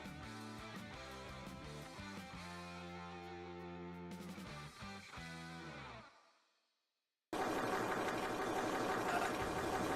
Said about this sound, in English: you can just hear the printer screaming in the background